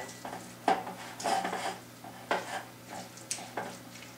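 A ranch seasoning packet being stirred into a dip in a bowl, with a spoon scraping and clinking against the bowl in several separate bursts, fairly close and quiet, no talking.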